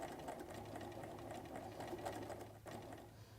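Sewing machine running steadily while stitching over earlier seams on a felt jewelry bag, a continuous close mechanical whir with rapid needle clatter and a brief dip near the end.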